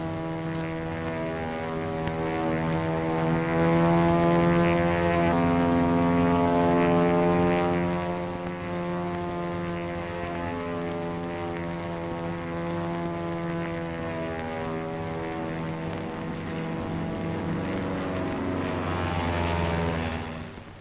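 A P-40 fighter plane passes overhead, its propeller engine droning loud and steady for about twenty seconds, swelling slightly then easing off near the end, with no talking.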